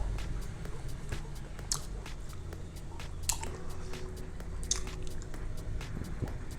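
Someone chews a chewy traditional Colombian candy close to the mic, with soft, sticky, wet squishes and bites repeating irregularly at low volume.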